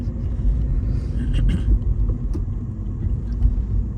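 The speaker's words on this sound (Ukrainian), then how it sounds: "нажати на газ і перейти на третє" Car engine revving up as the driver steps on the gas and shifts into third gear on a driving-test exam route, a steady low rumble swelling slightly, close and continuous with no talk.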